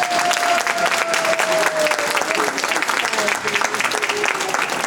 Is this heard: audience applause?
yes